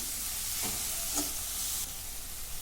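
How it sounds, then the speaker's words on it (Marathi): Fenugreek leaves sautéed in a pan while making dal methi, giving a steady frying sizzle with a couple of soft stirring scrapes, close and fairly quiet, without talk. "आता याच्यामध्ये मेथी टाकून घेते मेथी पण परतून घेते"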